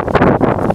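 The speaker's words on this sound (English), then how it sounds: "A little bit windy out today" Gusty wind buffets the microphone outdoors during a rabbit hunt, a dense, steady broadband rush that lasts under a second with no clear voices.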